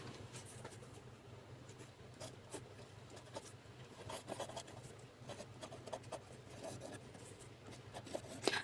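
Faint, intermittent scratching and tapping of numbers being written on a board, a soft rubbing stroke pattern over low background hum, with no talking.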